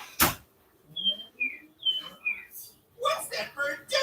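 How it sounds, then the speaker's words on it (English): A small bird chirps inside a car: four short, bright whistled chirps come in quick succession, followed by a person talking close by. "What's that bird doing in my horrible, no good, gassy, rotten car?"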